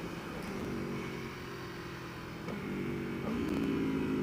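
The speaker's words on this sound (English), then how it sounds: "Here's the downshift, quick blipper here." A 2019 Aprilia Tuono 1100 Factory motorcycle downshifting with its quick blipper, the engine droning steadily with brief rev blips and gear changes heard from the rider's position.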